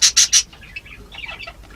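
Baby budgies fresh out of the nest chirp in a warm bird room, three loud close bursts followed by softer scattered twittering.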